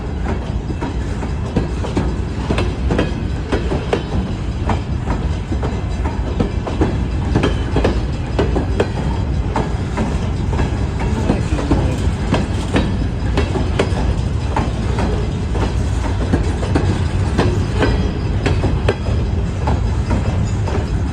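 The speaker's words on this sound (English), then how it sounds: "once the engine gets completely through the township, they'll start picking up speed" An Iowa Interstate freight train rolls steadily past through a township, a loud, continuous rumble with rhythmic clickety-clack of wagon wheels over rail joints throughout, close by and with no talk.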